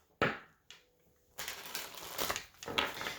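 Tarot cards shuffled by hand in quick bursts of papery riffling and slapping, loud and close, with short pauses between rounds and no talk.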